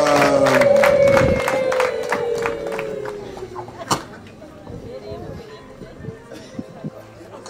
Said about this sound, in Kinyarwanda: mwongere mutange amashyi n'impundu